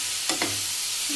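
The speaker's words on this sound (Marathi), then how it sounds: "त्याला 5 मिनिटं कमी गॅसवर थोडंसं भाजू द्यायचं." A paneer chilli mixture roasts in ghee in a pan on low heat, a steady gentle sizzle with two quick scraping stirs near the start, close by, no talking.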